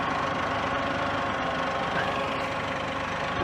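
A Massey Ferguson 1835E shuttle shift tractor engine labors under heavy load during a pull test, a dense, steady, loud drone that sounds strained and near stalling without quite dying, with no speech.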